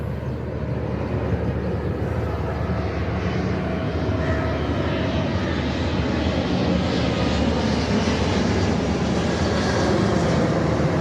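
An airplane passes overhead, its broad, steady engine roar filling the whole stretch at a constant loud level with no voices.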